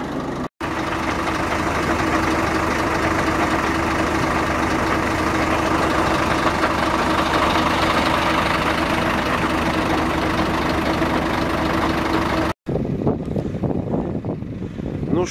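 A diesel excavator engine idles close by in a steady, continuous low rumble with a constant drone, broken by two brief cuts, and no talking over it.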